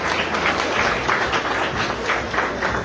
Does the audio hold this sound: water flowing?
no